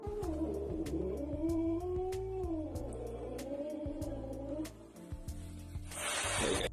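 A pet cat gives a drawn-out, wavering meow close by, followed by a brief hiss near the end, with no talking.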